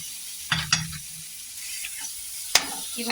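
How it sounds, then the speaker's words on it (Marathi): Khoa sizzles softly as it is roasted in a kadai while a spatula scrapes and stirs, with a few sharp scraping strokes standing out. "इथं खोवा पण असं चांगला मस्त परतून घेतलाय"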